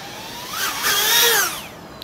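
A DarwinFPV Whoop75 FPV drone flies close by with a high, whining buzz of small propellers that rises and falls in pitch as it throttles up and eases off over about two seconds.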